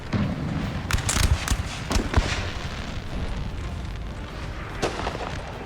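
Musket volleys in a Napoleon Total War battle, scattered cracks and booms over a constant rumbling battlefield ambience, moderately distant rather than close.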